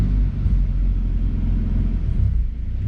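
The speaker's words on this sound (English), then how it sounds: "If I give it a little bit of revs" A Ford Falcon engine rumbling close by, deep and steady with slight swells in revs, no voices present.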